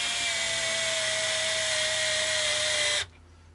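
A power drill with a drill bit working on a Hohner HG430 harmonica, a loud high-pitched steady whine that runs continuously, then stops abruptly, leaving quiet room tone.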